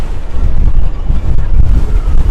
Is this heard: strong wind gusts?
yes